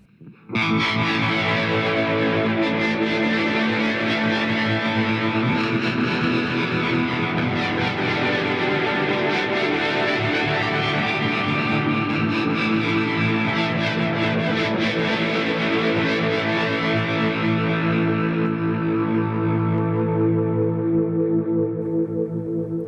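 Heavily distorted electric guitar drenched in chorus and echo, wet effects signal only through an HX Stomp, playing sustained chords continuously and loudly with a thick, washy tail.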